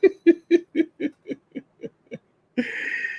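A sound-effect owl hoot: a rapid series of about ten evenly spaced, loud hoots that gradually soften, followed by a brief, brighter warbling call.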